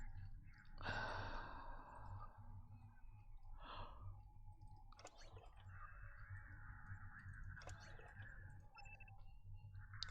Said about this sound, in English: Goodness gracious, I'm yawning.